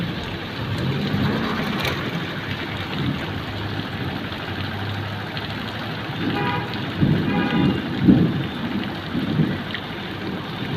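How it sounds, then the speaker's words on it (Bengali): Steady rain in a thunderstorm at a riverside port in Narayanganj, with low rumbling thunder and a brief horn toot partway through, no voices. "আকাশের বজ্রপাত চলছে"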